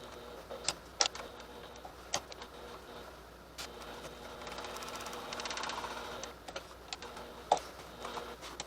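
A sewing machine stitches a shoulder bag, heard faintly: scattered sharp ticks and clicks, then a few seconds of steady mechanical whirring before more isolated ticks.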